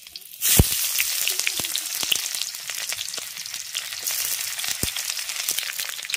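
Chopped onions drop into hot oil already tempered with bay leaf, dried red chilli and five-spice, for a homemade fish curry. A loud burst of sizzling erupts, then settles into a steady, crackling fry that continues to the end.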